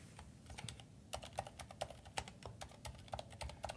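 Rapid keystrokes on a computer keyboard, close and clear, in irregular bursts with short pauses between runs of typing.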